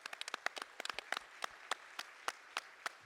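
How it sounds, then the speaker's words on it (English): Audience applause for ocean explorer Dr. Sylvia Earle, with sharp individual claps ringing out over a softer background of clapping for about three seconds. "I would just like to offer one more round of applause for Dr."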